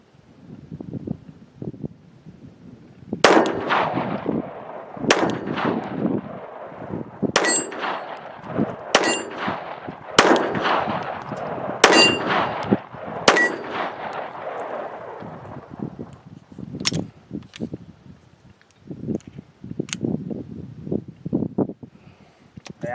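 Sharp, loud gunshots from a Ruger LCP II .22LR pistol ring out at irregular intervals, some in quick pairs, with bright metallic cracks and short echoing tails over outdoor background noise.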